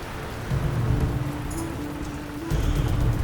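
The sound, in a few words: rain and thunder storm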